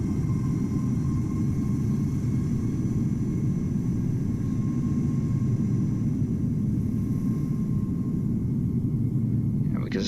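Jet airliner on approach to Amsterdam Schiphol in Microsoft Flight Simulator, a steady low engine rumble and drone in cloudy weather, continuous and fairly loud throughout.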